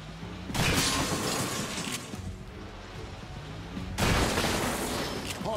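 Rapid automatic gunfire in the XCOM Chimera Squad video game: two dense, loud bursts of shots with crackling impacts, separated by a slightly quieter stretch of continuous battle noise.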